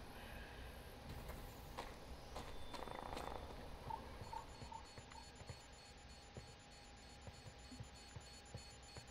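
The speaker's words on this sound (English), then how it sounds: "What's that damn alarm?" A steady electronic alarm tone drones through a game scene in The Day Before, with a few brief beeps partway through, all faint beneath ambient background noise.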